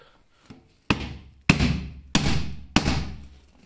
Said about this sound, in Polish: Dostało dwa razy młotka